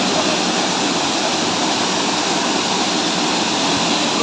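A waterfall in Iceland gives off a loud, continuous broadband roar of rushing water, close and unchanging, with no other sounds breaking through.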